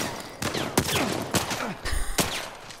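Gunfire in the video game The Last of Us Part 1, several loud close shots in quick irregular succession with ringing echoes trailing after each, with no talk over them.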